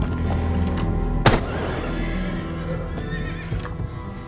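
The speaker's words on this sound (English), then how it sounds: "if you shoot this door, you will hear a horse go neigh" A horse neighs loudly in a long whinny in Rainbow Six Siege, triggered by shooting a door, with a sharp thud at the start and a steady background hum throughout.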